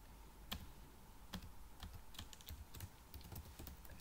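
Code is typed on a computer keyboard in a quiet room, a run of close, irregular key clicks with a few louder strikes and no voices.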